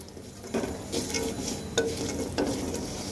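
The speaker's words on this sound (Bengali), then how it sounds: "আমি ডালের বড়িগুলো খুব সুন্দর করে একটু হালকা, খুব বেশি ভাজার দরকার নেই" Lentil dumplings (dal bori) fry lightly in a pan under a soft sizzle, broken by several clinks and scrapes of a spatula stirring against the pan.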